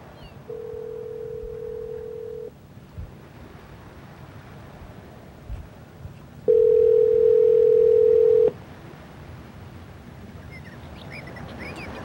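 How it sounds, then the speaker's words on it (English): Telephone call with two steady tones, a softer one for about two seconds and then a louder one, separated by quiet room noise and faint clicks, with no speech heard. "Might be playing some phone tag with Cedar."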